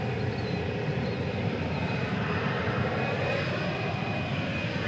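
A nine-year-old Airbus A319 at DFW Airport gives off a steady, loud engine roar that holds constant throughout, with no talking.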